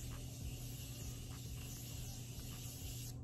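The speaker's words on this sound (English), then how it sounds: "I'm just setting with the setting spray." Setting spray mists onto a face during makeup application, producing a soft, close, continuous hiss with faint brief pulses over about three seconds.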